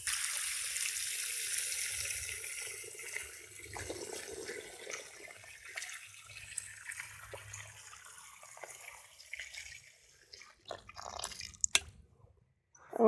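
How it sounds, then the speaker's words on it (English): Water pours and splashes onto processed wild clay in a container to make slurry, a steady hiss that thins into scattered drips and trickles, followed by a few louder knocks near the end. "now let's add some water to this and let it start turning into a slurry."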